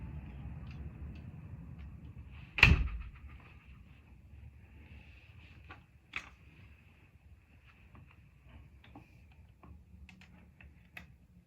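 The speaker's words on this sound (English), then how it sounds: "So now we're going to shut the door." A storm door swings shut with one sharp, loud clack near the start, followed by faint small ticks and a low background rumble.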